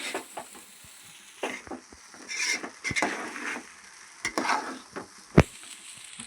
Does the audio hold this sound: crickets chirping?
no